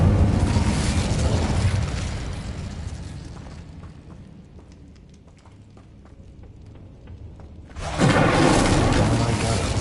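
Incendio fire spell cast in Hogwarts Legacy, a loud roaring burst that fades over several seconds to a quieter crackling stretch before another dense blast surges back near the end.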